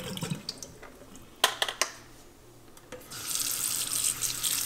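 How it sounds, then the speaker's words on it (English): Water from a Philips 3200 LatteGo coffee machine's water tank is poured out into a sink while the tank is rinsed, with a few splashes and clunks, and then a steady rushing flow starts up. "I hadn't intended to do this, but the water needs to be dumped."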